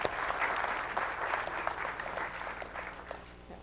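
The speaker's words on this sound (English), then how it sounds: "And I'd like to give one final round of applause to Kevin, Christine, and Michelle" Steady applause from an audience closing an education conference evening panel, a dense, moderately distant patter of many hands that carries on evenly for a few seconds.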